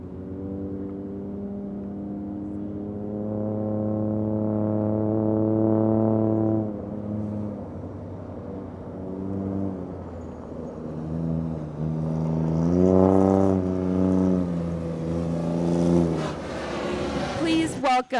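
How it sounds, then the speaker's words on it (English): Ford Bronco R race prototype engine revving, a steady harmonic drone that rises in pitch near the end, loud and close, with a brief sharp burst at the finish. "Welcome the Bronco R race prototype."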